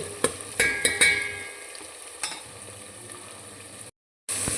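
Tomato masala with salt frying in a pan for millet bisibele bath, a soft sizzle broken by a few sharp spoon clinks and scrapes early on, then quieter frying before a brief silent gap and a return.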